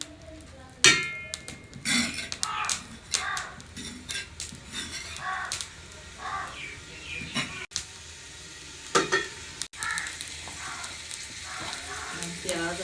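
Ginger dropped into a hot pan of sizzling oil and stirred, with a steady close fry hiss broken by scraping spoon and metal clinks against the pot.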